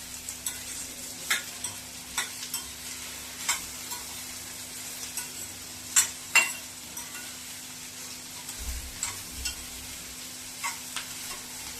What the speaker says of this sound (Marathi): त्यामध्ये मी घालते भेंडी. छान परतून घेऊया.